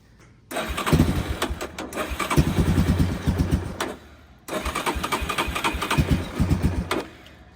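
A Yamaha Warrior 350 ATV fitted with a Chinese carburetor cranks twice, each attempt a loud rapid chugging of the starter and engine sputtering close by, cutting out in between.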